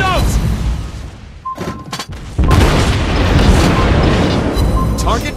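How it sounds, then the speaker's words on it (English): Torpedo explosions in the naval battle game World of Warships Blitz, with heavy booming blasts and a sustained rumbling roar, loud and close, alongside game alert chimes and a voice announcement. "Torpedoes!"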